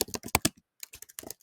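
Close, crisp computer keyboard keystrokes come in two quick bursts separated by a short pause, each key click sharp and distinct against a silent background while text is typed into a website editor.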